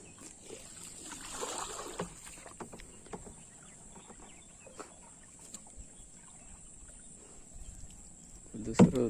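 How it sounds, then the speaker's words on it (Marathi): Oars dip and splash at intervals as a small boat is rowed over calm water while crab traps are hauled, faint and fairly close, with a few brief knocks and a louder thump near the end. "होडी चालवून दमलो"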